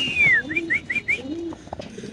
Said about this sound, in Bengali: এখানে আছে আরেক জোড়া লাহোরি কবুতর